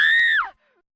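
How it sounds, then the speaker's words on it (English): A single scream in an audio drama, held steady and loud for under half a second before sliding downward in pitch and cutting off into silence. "Then, all of a sudden, he heard a scream in the distance."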